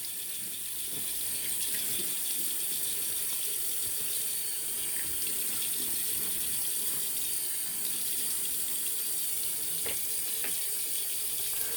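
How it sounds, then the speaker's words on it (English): A bathroom tap runs steadily into a sink while the face is wetted before shaving, a constant splashing hiss with small irregular drips and spatters, close and unbroken throughout, with no talking. "So let's wet the face and get the lather in."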